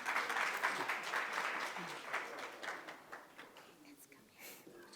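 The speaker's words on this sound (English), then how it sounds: "Let's give her a round of applause." Audience applause at a film panel event in Durban, South Africa, with a steady wash of clapping from a crowd that thins out toward the end, some voices audible beneath it.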